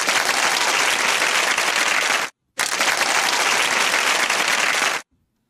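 Applause during an online audit lecture: two long, even bursts of dense crowd clapping, loud and uniform, separated by a brief silent gap and ending abruptly.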